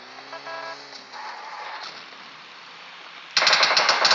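Gunfire in the PUBG Mobile Lite video game, a sudden loud rapid automatic burst near the end after quieter game sounds and engine-like hum.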